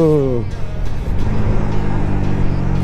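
A 2019 KTM 390 Duke single-cylinder motorcycle blipping its throttle, a quick rising rev that drops into a loud, close, rough idle with popping burble.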